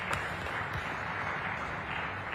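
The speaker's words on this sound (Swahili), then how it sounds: "Tuwapigie makofi wageni wetu wa dunia yote." Audience applause for visiting guests at an East African early childhood development conference, a steady wash of clapping from many hands, moderately loud and continuous.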